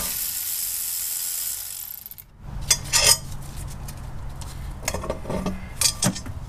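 A ratchet removes the last fastener from an engine's lower intake plenum after a steady hiss, giving short bursts of metallic clicking and clattering up close.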